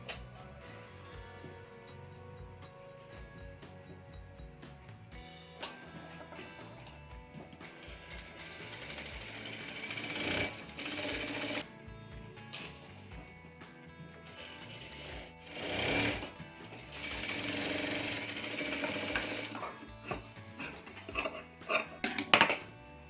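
A sewing machine stitches the upper fabric onto the collar of a one-piece umbrella dress, running in bursts of fast mechanical whirring and clatter with pauses between, close by and without talk.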